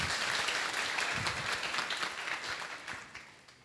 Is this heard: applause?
yes